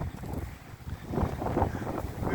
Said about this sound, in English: We have a strong wind and wind gusts from north.